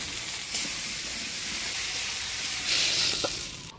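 Eggplant with turmeric and salt fries lightly in hot oil, producing a continuous close hiss and sizzle that swells briefly toward the end, with no voices.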